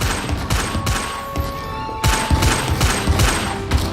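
Repeated Incendio fire spell casts in Hogwarts Legacy video game land in a rapid series of sharp, punchy bursts, several close thumping blasts with brief gaps and a lingering ringing tone between them, loud and without talk.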